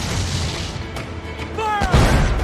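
Ship cannons fire in pirate naval combat in Assassin's Creed IV: Black Flag, heavy booms landing amid battle noise, with a whistling projectile sweep just before a final close blast.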